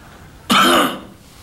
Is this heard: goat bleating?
no